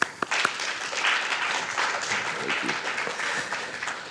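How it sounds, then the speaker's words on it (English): Audience applause at the close of an evening national security lecture, a steady wash of clapping from a seated crowd with a few louder claps near the start. "Let's give him another round of applause, please"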